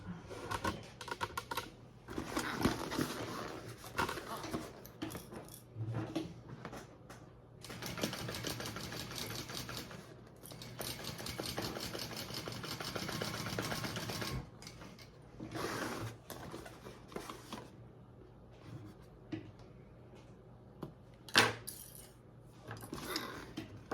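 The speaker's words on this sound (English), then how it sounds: "Okay, let's sew those up." A sewing machine stitches a tote bag with an embroidery panel, its fast close mechanical whirring running in long bursts with short pauses and a few clicks between runs, with no one speaking.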